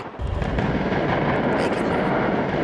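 An F-16's 20mm cannon fires at a firing range, a loud, dense roaring burst that starts abruptly and holds for over two seconds as one continuous blast.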